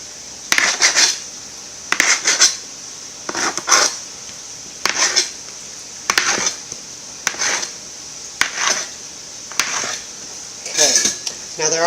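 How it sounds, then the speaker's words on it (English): Metal pastry cutter pressing through English muffin dough on a hard surface, a series of about ten short clinking metallic taps at a steady, unhurried pace, close and fairly loud. "you're going to take your pastry cutter, and we're just going to cut these."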